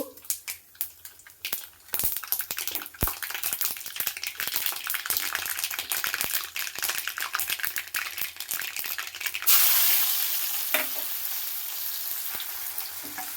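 Mustard seeds crackle and pop rapidly in hot oil. A louder, steady hiss then takes over as crushed shallots, garlic and curry leaves drop into the pan.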